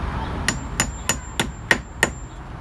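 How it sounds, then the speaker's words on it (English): Six light, evenly spaced metallic taps of a small hammer seat a shim into an electrical terminal during a Toyota misfire repair, crisp and close with quiet gaps between strikes. "Gently tap it down."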